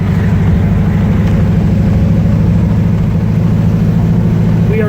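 A low, steady engine rumble in slow traffic behind a cement truck, heard from a 1968 Chevy Camaro, with an even droning hum and no voices over it.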